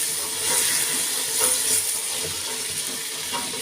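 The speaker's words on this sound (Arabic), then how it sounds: "هنديله تشويحه كده اهو في قلب البصل" Shelled fava beans sautéing in frying onions in a pan, giving a steady, close hiss and sizzle with faint crackles throughout.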